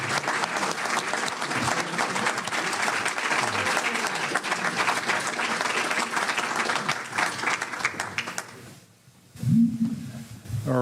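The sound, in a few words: audience applause for candidates at forum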